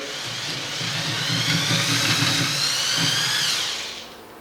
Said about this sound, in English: Once we've drilled through the first wall of the rim, so just through the bed here